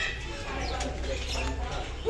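Soft cooing and chirps from a large murai bird close by over a low background hum, brief repeated calls.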